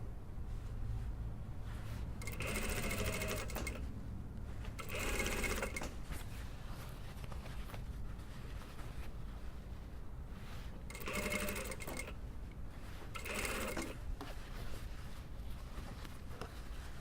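A sewing machine stitches the collar onto the body of a dartless lined jacket, running in several separate bursts of steady whirring with short quiet pauses between them, moderately close.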